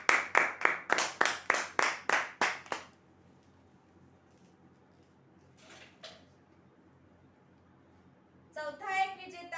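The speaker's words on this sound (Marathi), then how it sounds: "जोरदार टाळ्या होते" Clapping breaks out for the winner of a prize draw, about a dozen sharp, closely spaced claps over the first three seconds, then near silence with a faint thump and a brief voice at the end.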